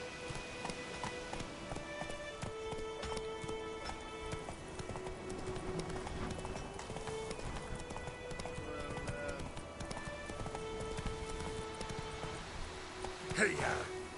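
Roach, a horse in a video game, galloping with a quick, rhythmic clip-clop of hooves that runs steadily throughout, set low under game music and a rider's spoken urging.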